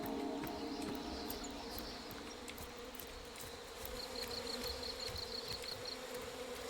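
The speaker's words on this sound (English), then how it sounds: "I hear bees" Bees buzz from a beehive in a video game, a faint continuous insect drone with a thin whining hum that rises briefly, sitting in quiet ambient background with no voices.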